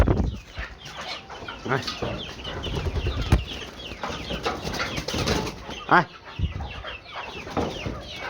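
Chickens on a small poultry farm in Bangladesh cluck and squawk close by in overlapping, irregular bursts, with a busy flock murmur underneath.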